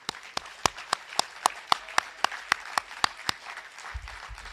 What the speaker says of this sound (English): So what I want you to do right now is give yourselves a huge round of applause.